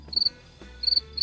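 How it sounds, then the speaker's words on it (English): Crickets chirp in woods at night during a camping trip, with short, bright trilling bursts repeating in quick groups against a quiet background. "It's a cacophony of crickets chirping in the middle of the night in the woods."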